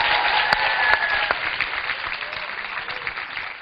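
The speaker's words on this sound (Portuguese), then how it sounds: "Palmas aí para o Ismael." A studio audience at a Brazilian TV show applauds in a dense, steady burst of clapping that holds loud throughout and fades slightly at the end.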